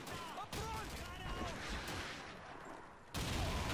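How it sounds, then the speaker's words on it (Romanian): Grenade explosions and gunfire in the World War II shooter Call of Duty 2: a dense, rumbling barrage of blasts and shots with a sudden loud burst near the end, and a voice faintly under it. "Hai să le dăm o grenadă. Și le mai dăm una."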